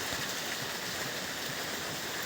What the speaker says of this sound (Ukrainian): Може, дасть Бог закінчиться дощ, але пузирі схватюються.